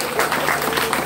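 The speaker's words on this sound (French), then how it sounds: "À nous applaudir, quoi." Applause from a gathered group, steady clapping filling the short stretch at moderate loudness, with some voices mixed in underneath.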